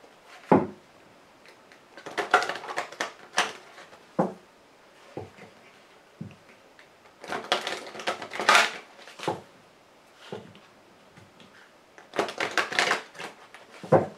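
Lenormand fortune-telling cards being shuffled and cut by hand: repeated bursts of soft riffling and papery flicks with brief taps between, close and fairly quiet, with no talking.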